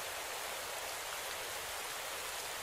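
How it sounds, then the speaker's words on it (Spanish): Rain begins falling in the cycling game Pro Cycling Manager 2017 during a stage, as a steady, dense hiss of downpour that stays loud and even throughout. "Empieza a llover, lo cual dificulta lo que queda de etapa."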